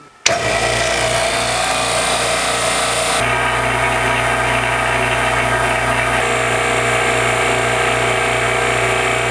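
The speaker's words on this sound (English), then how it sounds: "First up is going to be our standard pump, and you can see that we're zeroed out on our meter." A standard freeze dryer vacuum pump starts with a brief click, then runs as a loud, steady mechanical hum and drone that continues unchanged, with a slight shift in tone partway through and no voices.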